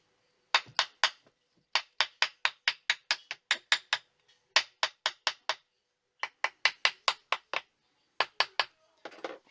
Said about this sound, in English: Just a little tap with a hammer, very, very gently, should be enough, hopefully.